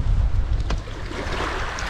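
Small sea waves wash onto the shore at Lazarevskoye on a calm sunny morning, a steady, close rumble of surf mixed with light wind buffeting.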